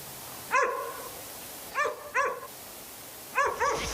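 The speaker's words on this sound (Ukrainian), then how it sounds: "натомість чуємо гавкіт собак" Several dog barks at a distance from a pack of dogs at a house in Kyiv, coming singly and in quick pairs with quiet gaps between them.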